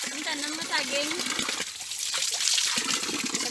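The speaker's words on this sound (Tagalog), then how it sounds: "Sa bato nagailig ang matinaw nga" Clear water rushes and splashes over rocks in a steady, close stream, with a voice speaking over the flow for the first half.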